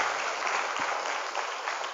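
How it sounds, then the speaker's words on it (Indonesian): Applause from an audience at a motivational session with hundreds of female boarding-school students, a steady dense patter of clapping held at an even level for two seconds. "Tepuk tangan buat yang sudah bicara hari ini."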